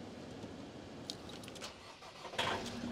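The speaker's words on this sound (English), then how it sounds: "when you turn on the ignition and fire up the vehicle" A Warwick XL 2015 motorhome engine starts when the ignition is turned. It is a fairly faint crank-and-catch that rises near the end over a quiet background hum, with no speech.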